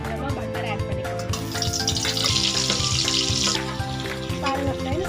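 Butter melts into a little oil in a pan, crackling and sizzling steadily at close range beneath background music, with a brighter hiss swelling for a few seconds in the middle.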